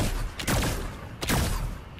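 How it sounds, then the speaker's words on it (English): Gunfire from a video game rings out as two sharp reports about three-quarters of a second apart, each trailing into a short echoing tail against a steady noisy background. "I'm shooting at them."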